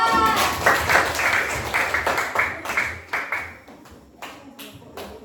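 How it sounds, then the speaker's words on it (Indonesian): A small group applauds a child named Faira during a village field activity, lively clapping at first that thins out and fades to scattered individual claps by the end. "Tepuk tangan dulu untuk Faira"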